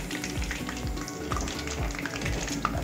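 Crispy pata, a pork leg, deep frying in cooking oil, with a close continuous sizzle and bubbling punctuated by irregular low pops and crackles.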